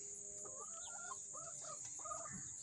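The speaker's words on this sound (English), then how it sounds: "Chicken." A backyard chicken near a nest of eggs gives several short, faint clucking calls in quick succession over a steady background hum, with no talk.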